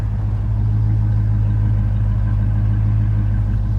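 A deep, steady exhaust rumble from an idling 1977 Chevy C20 truck with true dual exhaust and no crossover pipe, close and continuous with an even low throb and no other sounds.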